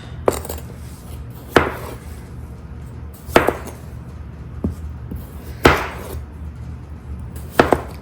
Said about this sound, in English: Dicing up my potatoes.